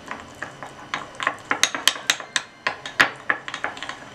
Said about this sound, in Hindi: ये घी इसी में डाल देंगे सारा और इसको अच्छा थोड़ा सा फेंट लेंगे घी और कॉर्नफ्लोर को